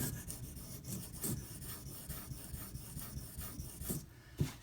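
Knife sharpening on a Benchmade Mini Griptilian D2 blade, with steady close scraping and rasping strokes on a stone, repeated in an even rhythm, quiet and without talk.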